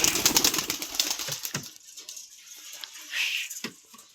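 Pigeons busy at feeding time, with a burst of wing flapping and fluttering at the start, then scattered soft rustles and a brief low coo, heard close with no talking.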